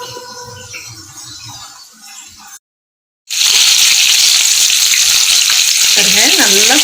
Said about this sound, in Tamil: பாருங்க நல்லா ஃப்ரை ஆயிடுச்சு.